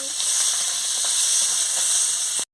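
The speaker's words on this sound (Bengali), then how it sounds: "এবার আমি ক্যাপসিকামটা দিয়ে দিচ্ছি" Capsicum frying in a pan while a paneer curry is cooked, giving a steady, close sizzle with faint stirring scrapes and no talk; the sound stops abruptly at the end.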